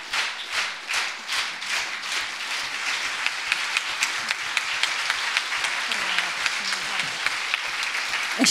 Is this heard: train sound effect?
no